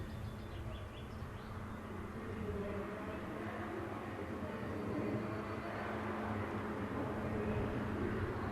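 An SNCF Class BB 25500 electric locomotive propels a suburban service from Mantes to Paris, a steady, fairly faint rumbling roll of the train passing at a distance, continuous throughout with no voices.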